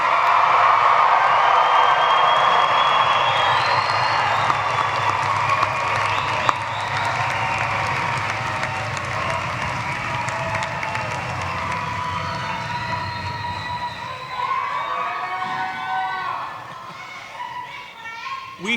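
A graduation ceremony crowd for the class of 2023 cheers, whoops and applauds loudly and continuously, a dense roar of many voices and clapping that tapers off near the end.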